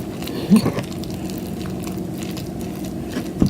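Henna powder paste being stirred in a bowl for hair color, a soft steady squishy churning with a couple of brief clinks of the utensil against the container, close up.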